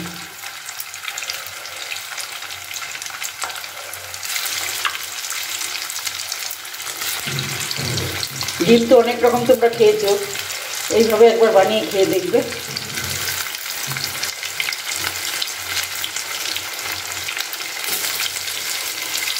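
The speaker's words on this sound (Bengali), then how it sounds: "এবার আমি ডিমের বরফিগুলোকে এখানে ভেজে নিচ্ছি।" Egg barfi pieces sizzle and fry in hot oil in a kadai, a steady close crackle with louder bursts partway through, while someone talks over it.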